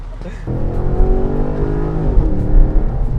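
A Chevy SS, also sold as the Holden Commodore, revs its engine close by with strong harmonic rises and falls that swell and settle over a few seconds, loud and steady throughout.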